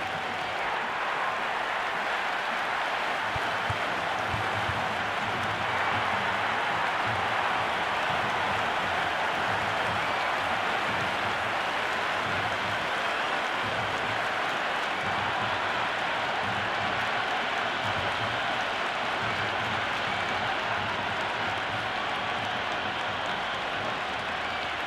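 A virtual stadium crowd roars at a Cricket 26 match between Delhi Capitals and Lucknow Super Giants. The dense, steady wash of cheering and applause holds at an even level throughout, with no clear speech on top.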